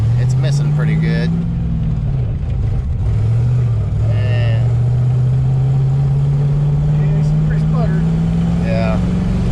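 A Ford Foxbody Mustang that sat for over eight years runs rough and misfires on a test drive, with a steady droning engine note that dips and rises, stumbling throughout while people talk.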